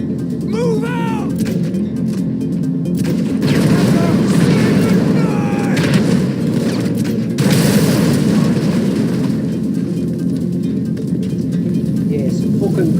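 Grenade launcher rounds exploding in a shooter video game, dense booming blasts and rumbling roar filling the whole stretch, with louder surges midway, loud and continuous.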